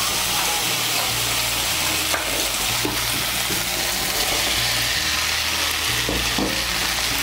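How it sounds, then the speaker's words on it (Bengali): Fried potatoes and soybean chunks cook in spice paste for a Bengali curry, a dense, loud, continuous sizzle with occasional stirring scrapes and soft low bubbling beneath. "আলু আর সয়াবিনগুলোকে ভালো করে মিশিয়ে নেব। মশলার সঙ্গে মিশিয়ে নিয়ে আর একটু কষিয়ে নেব।"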